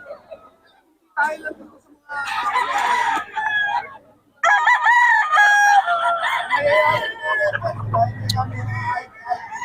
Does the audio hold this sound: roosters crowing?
yes